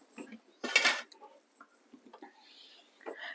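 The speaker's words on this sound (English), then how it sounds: "grab my two pans over, get my handy pink spatula" Metal cake pans are handled in a home kitchen while baking a treacle sponge, giving a short bright metallic clatter followed by a few softer clinks and taps.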